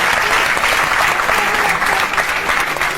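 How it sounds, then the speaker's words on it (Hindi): An audience at an event applauding with loud, continuous, dense clapping from many hands that holds steady throughout. "तो अपनी तालियां आप जारी रखिए गुरु के लिए"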